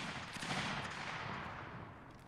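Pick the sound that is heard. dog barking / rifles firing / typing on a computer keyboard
rifles firing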